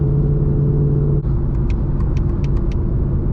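A 2020 Ford Mustang GT V8 with a Borla exhaust cruises at night, giving a steady, close, deep engine drone with a low hum throughout and a few faint ticks near the end.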